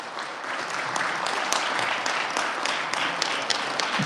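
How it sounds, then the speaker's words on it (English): Applause in a Senate chamber, steady clapping from a crowd with a few sharper individual claps standing out, moderately loud and continuous for about four seconds. "Let's give him a round of applause right now."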